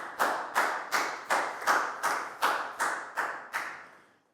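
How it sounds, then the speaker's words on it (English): A class of schoolchildren claps in unison during a Year 4 maths lesson, about ten sharp, evenly spaced claps in a steady rhythm, moderately loud and with no voices over them. "High five and a big round of applause for Pat, please, guys."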